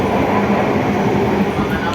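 Interior of a Pasundan economy new-generation passenger train running, a steady loud low rumble and rolling wheel noise filling the carriage continuously, with faint background voices.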